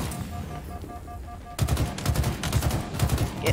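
Rapid automatic gunfire in Halo Infinite during an Oddball match, starting abruptly after a quieter stretch and continuing in dense bursts that fill the rest of the clip, loud and close.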